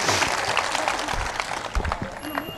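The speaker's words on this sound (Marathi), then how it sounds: "स्वतः स्वतःसाठी एकदा सगळ्यांनी टाळ्या वाजवायच्यात" An audience at an election campaign rally claps steadily, a dense patter of many hands sustained throughout, moderately loud.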